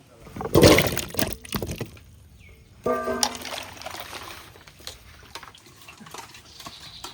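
Water splashes and trickles as potatoes are washed in a home kitchen, with uneven bursts of sloshing between quieter dribbles and a voice talking over parts of it.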